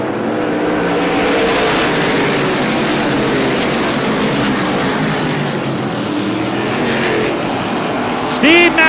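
Race cars run side by side at a short-track oval just after the green flag, a loud continuous engine roar from the packed field holding steady, with a brief higher whine near the end.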